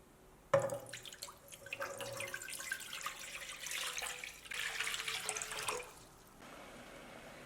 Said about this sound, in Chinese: 锅里面加入适量的清水